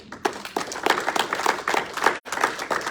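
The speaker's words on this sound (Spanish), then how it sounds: "Dale un aplauso al Señor." A church congregation breaks into applause during a Spanish-language service, a steady burst of clapping from many hands that dips into a brief gap near the end before resuming.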